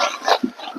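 A horse gives a few short, breathy snorting bursts close by during groundwork, with brief low grunts between them.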